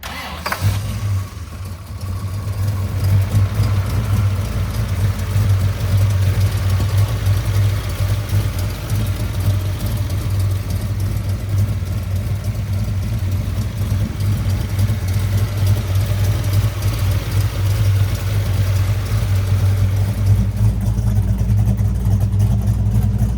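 A 1970 Ford Torino GT with a 429 Cobra Jet V8 fires up and settles into a loud, steady, deep-throated idle rumble, close by and continuous, with no one talking over it.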